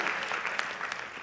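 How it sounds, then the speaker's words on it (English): Dense, steady clapping from an audience at a comedy show, a continuous wash of hands from many people at moderate loudness throughout the short burst. "please a round of applause for yourselves"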